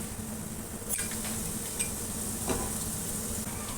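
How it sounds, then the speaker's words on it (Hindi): Ginger garlic paste sizzles steadily in a pan with golden brown onions for channa pulao, with a few faint scrapes of stirring over the constant frying hiss. "प्याज गोल्डन ब्राउन हो चुका है। इसमें अदरक लहसुन का पेस्ट डालूँगी।"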